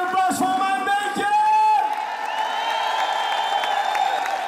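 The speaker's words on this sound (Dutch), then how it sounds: "Mag ik een koude applaus voor mijn bandje?" A crowd applauds and cheers for a live band at a concert, clapping and whoops rising over lingering sustained musical tones that fade as the ovation continues.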